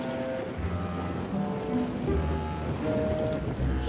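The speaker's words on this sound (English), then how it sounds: "It's raining too hard." Heavy rain falls in an animated cartoon scene, a steady, continuous hiss of downpour that runs throughout, with a tonal musical score layered over it.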